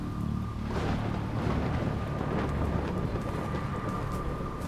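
Rain in the video game Jenny LeClue falls as a dense, steady hiss with a low rumbling wash underneath, continuous and fairly loud throughout with no voices.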